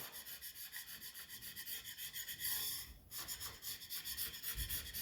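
A putty knife scrapes adhesive off Formply plywood with light pressure, making a steady run of dry, rasping strokes that repeat close-up, with one harsher scrape near the middle.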